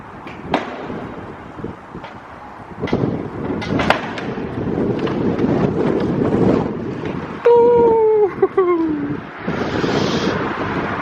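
Wind buffets and rumbles across the microphone, with thumps, rattles and a brief squeal partway through, loud and close.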